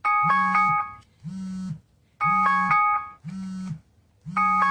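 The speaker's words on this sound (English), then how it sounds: "my phone's ringing and I'm ignoring it because I'm still filming." A phone rings with a repeating two-tone electronic melody, three bursts in steady rhythm with short gaps, close and clear while a craft session goes on.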